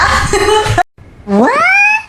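A person imitates a wild cat with a loud, close, rising meow-like wail after a short burst of vocal sound and a brief pause.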